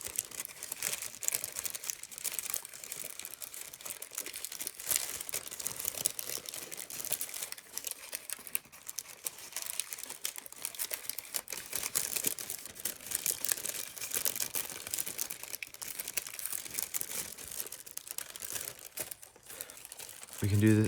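Origami paper being folded and pleated into a human figure with level shifters, giving steady close crinkling and crumpling rustles that run continuously throughout with no talk.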